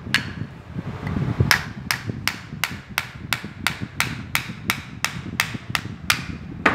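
A hammer drives the shaft out of a cooler motor, landing about fourteen sharp, evenly spaced metallic blows close up, with no speech.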